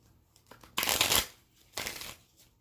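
A deck of tarot cards is shuffled close up, with two quick riffling bursts, the first longer than the second, soft and near, and no talking.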